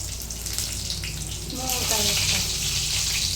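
Brinjal frying in a pan, a steady hiss and sizzle that grows louder midway, with a voice talking briefly over it.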